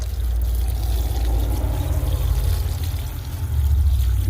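Water poured from a container onto the soil around the base of a garden rose, a steady close splashing trickle that runs continuously without pause and with no talk over it.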